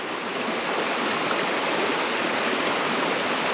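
A river rushes beside the Waitewaewae Track in the bush, a steady, loud, close hiss of flowing water that does not let up, with no voices.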